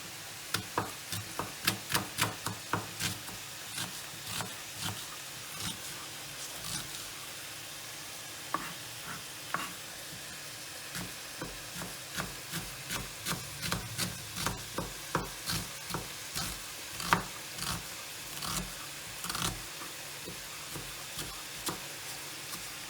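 Constant sizzle of chopped onion frying in oil in a pan, punctuated by repeated sharp scraping and tapping as it is stirred, close and steady throughout.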